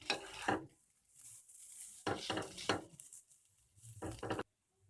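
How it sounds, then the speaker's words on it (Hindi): Chowmein noodles being stirred with tomato ketchup and chilli sauce in a pan, heard as close bursts of scraping, tossing and clinking of utensil against metal, separated by short pauses. "इसे भी इस तरह से डाल के मिक्स कर लेंगे।"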